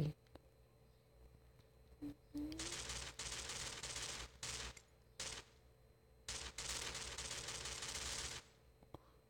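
Long bursts of rapid automatic rifle fire in the video game Free Fire, several sustained volleys separated by short pauses, loud and close against a quiet background hum.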